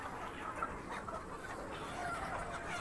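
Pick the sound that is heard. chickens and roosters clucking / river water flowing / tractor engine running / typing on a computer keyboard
chickens and roosters clucking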